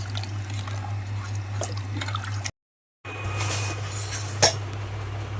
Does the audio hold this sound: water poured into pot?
yes